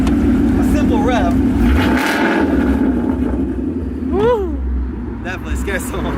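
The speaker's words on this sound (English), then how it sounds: "I randomly rev it" A car fitted with a loud aftermarket exhaust rumbles steadily at close range, with a brief rev swelling around the middle, under a continuous low engine drone and some background noise.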